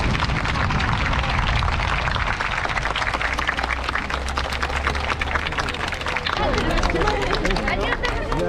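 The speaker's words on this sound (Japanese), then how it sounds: "もう一度大きな拍手をお願いします。" A large crowd applauds loudly and continuously after a dragon dance performance by the Nagasaki girls' high school dragon dance club. A dense, sustained roar of clapping mixes with crowd babble and cheering throughout.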